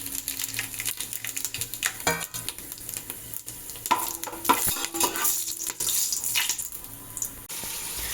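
Biryani masala and spices sizzling and frying in hot oil for soybean pulao, with stirring and clinking in a home kitchen; steady crackle throughout, a few louder scrapes, no talking.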